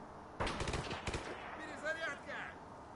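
Two sharp sniper gunshots crack in quick succession in a video game, followed by faint whizzing and ringing sounds of in-game effects, fairly quiet overall.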